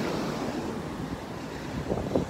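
Ocean surf at Tahara Beach in Japan, a steady full wash of waves breaking and rushing in close by, blended with gusty wind noise on the microphone and no talking.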